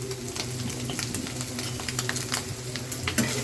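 Grass pea greens cooking with small shrimp and a little turmeric in a pan, giving a steady close sizzle and frying crackle with scattered stirring scrapes throughout.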